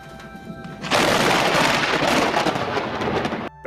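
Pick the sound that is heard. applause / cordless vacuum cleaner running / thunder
thunder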